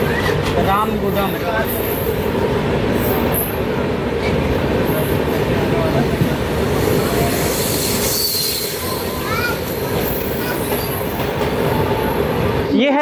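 The Ahmedabad Gorakhpur Express rolls steadily into Ramagundam railway station in Telangana, India, with a continuous rumble and squealing wheels, loud throughout with a faint high screech rising and falling.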